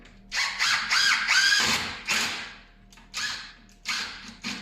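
A power drill drives a screw into an election sign frame, several short whirring bursts with pauses between them, close and moderately loud, with no talk.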